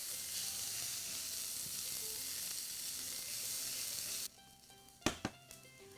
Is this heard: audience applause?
no